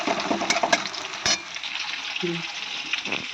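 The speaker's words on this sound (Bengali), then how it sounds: "পেঁয়াজটা ভাজি তো মাটনটাও যাবে" Onions frying in a pan with stirring: bright, crackling sizzle with a few sharp spatula knocks, close and steady, with no speech.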